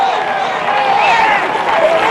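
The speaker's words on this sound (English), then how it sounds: "The crowd's loving it." Golf gallery at the 2013 US Open cheering Phil Mickelson's tee shot, a loud sustained wash of crowd roar and scattered whoops with no pauses.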